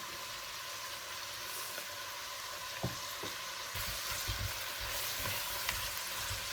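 Four onions with salt sauté in a pan for a Kerala-style duck roast, making a steady close sizzle with a few sharp clinks and scrapes of stirring partway through.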